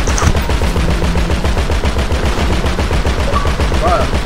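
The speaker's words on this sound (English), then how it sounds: "Shooting at him, boys." Rapid automatic gunfire in GTA 5, a loud, steady stream of evenly spaced shots that runs without a break from start to finish.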